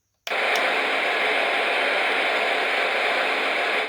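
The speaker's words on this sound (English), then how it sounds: "They just have a bright white noise that can be quite intense." Loud, bright, hissing white noise from a white noise machine starts abruptly and holds steady and intense, with no voices.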